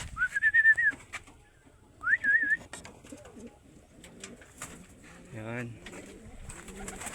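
Racing pigeons returning to their loft after an 82 km training toss, with a few clear whistled calls and soft cooing nearby, while someone talks briefly in the background.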